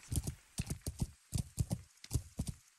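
Horse hooves clip-clopping at a steady walking rhythm while riding through a medieval countryside in Kingdom Come: Deliverance, close and clear, with no voices over it.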